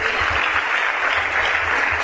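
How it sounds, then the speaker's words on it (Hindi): Seminar audience gives loud applause, a thick continuous roar of many clapping hands in a large hall, steady and unbroken from start to finish. "एक उनके लिए जोरदार ताली दीजिए।"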